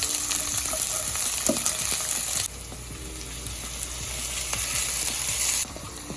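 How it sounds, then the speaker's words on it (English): Shallots sautéing in hot olive oil, a loud continuous crackling sizzle with a few faint stirring clinks, the hiss dropping in volume partway through and rising again before dipping at the end. "You're going to heat your olive oil up. You're going to add your shallots. Saute for 30 seconds."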